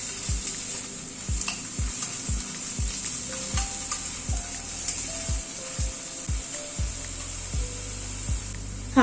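Garlic paste and onion frying in a pan, a continuous close sizzle broken by a regular series of scraping stirs from a spatula, with no talk.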